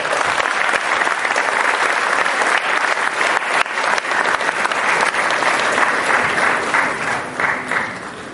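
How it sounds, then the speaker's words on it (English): Sustained audience applause, loud dense clapping from a large crowd that continues steadily and tapers slightly at the end. "A round of applause, please."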